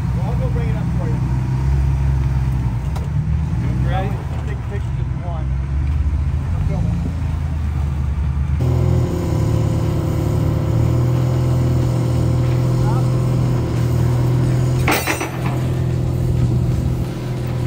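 A Ford Bronco pulls up slowly as it is guided into position, its engine idling and rumbling steadily nearby at a constant loud level throughout, with a brief higher burst of noise late on and people talking over it.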